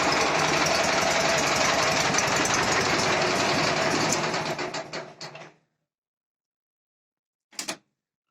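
The D-25 diesel engine of a Prykarpatets mini tractor runs with a loud, steady mechanical clatter before winding down and stopping, followed by silence and one brief burst near the end.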